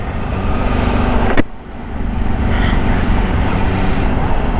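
Supercharged Kawasaki Ninja H2 SX SE under way, a loud steady roar of engine and rushing wind close up, with a brief break around a gear change before the drone resumes.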